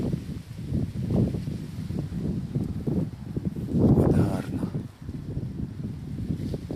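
Gusty wind buffeting the microphone in uneven, rumbling bursts among flowering kiwi vines, with a brief spoken remark partway through.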